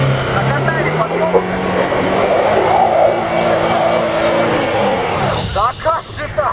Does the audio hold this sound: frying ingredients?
no